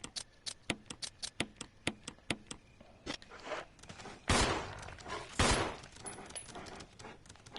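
Gunshots from the survival-horror game Resident Evil, set in the mansion: a rapid string of about ten sharp, loud single shots, then two heavier blasts and scattered smaller impacts, with no talking.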